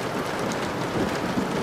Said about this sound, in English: You always come here when you hear thunder.